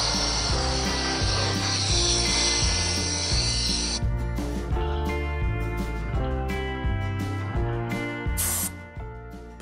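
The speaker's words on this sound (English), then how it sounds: "Here I am using a plastic scraper on stubborn areas." Steady rhythmic scraping strokes of a plastic scraper removing paint from an RC car body, repeated back and forth close up, with a high whine fading out partway through.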